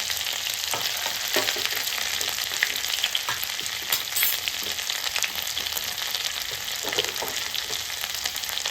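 Ginger garlic paste fries in a pan with curry leaves for a drumstick curry, giving a loud, steady sizzle with scattered stirring scrapes throughout and no talking.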